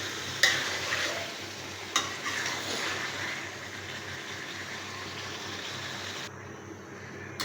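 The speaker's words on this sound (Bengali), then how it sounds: "মাছ দিয়ে একটু কষিয়ে নিলাম তরকারির সাথে" Fish pieces sautéed with tomato curry and potatoes in a pan, a steady soft sizzle and frying hiss with a couple of sharp stirring scrapes near the start, continuing evenly and then cutting off abruptly near the end.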